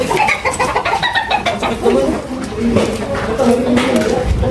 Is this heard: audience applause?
no